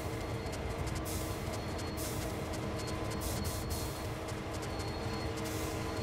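Train braking in Train Sim World 2, a dense continuous rumble and hiss of the rolling train with faint squeal-like tones and rhythmic clicks, loud and steady with no talking.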